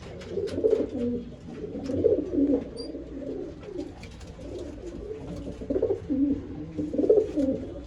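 Pigeons in a loft coo in soft, overlapping rolling phrases, several birds close by, rising and falling continuously with no talking.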